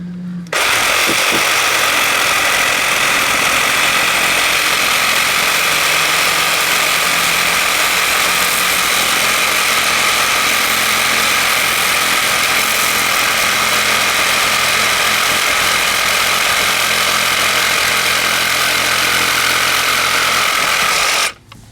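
A saw with a carbide-tooth blade cuts through metal sprinkler pipe in a loud, continuous, harsh grinding roar that holds steady for about twenty seconds before stopping abruptly.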